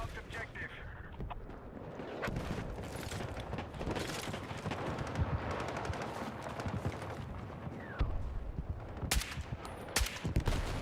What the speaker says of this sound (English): Teammate being way out here with an unsilenced gun